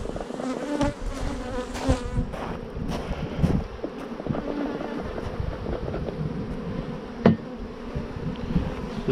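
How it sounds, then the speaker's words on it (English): Honeybees in a newly installed hive drone loudly and steadily, a dense close-up buzz that fills the whole stretch, with light wind noise rustling underneath. "This is a very loud hive."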